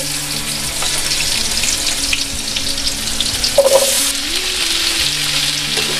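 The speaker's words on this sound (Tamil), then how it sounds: "இப்போ இந்த மாங்காவை நம்ம கொஞ்சம் அப்படியே வதக்குறோம்" Raw mango pieces sizzle and fry in melted ghee in a pan, a steady broadband crackle with occasional stirring scrapes and a brief louder clatter near the middle, close and continuous with no talk.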